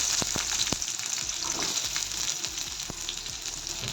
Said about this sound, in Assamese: এতিয়া কাটি লোৱা এই সামগ্ৰীখিনি মই তেলত দি দিম